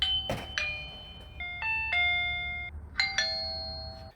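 AOSU wireless video doorbell chime playing a bright electronic melody of several clear ringing tones, close and loud, with short bursts and pauses between phrases.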